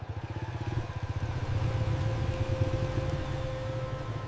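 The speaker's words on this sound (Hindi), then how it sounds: "इसी लम्हे गली के कोने से मोटरसाइकिल की आवाज उभरी।" A motorcycle sound effect in a Hindi-Urdu audio drama set on a Karachi street corner: a steady mid-pitched engine putters with a rapid pulsing rhythm, fairly close and continuous, with no talk over it.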